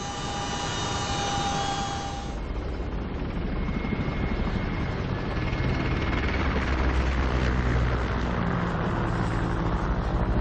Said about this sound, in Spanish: Aparecen dos Black Hawk, dos helicópteros que van a realizar una evacuación médica.